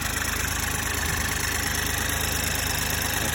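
A BMW 118i F20 with the 1.5 engine idles steadily after a test start during a service, a close, loud, even hum with a fine rhythmic pulse and no speech.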